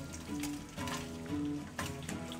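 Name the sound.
beef bacon frying in bacon grease and clarified butter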